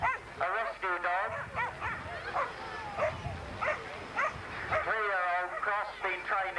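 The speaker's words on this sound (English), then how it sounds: "Next to run is Bailey, being run by Tracy, a rescue dog." Barking and yipping from a rescue dog, a three-year-old cross, at an agility competition, with repeated excited bursts over a commentator talking throughout.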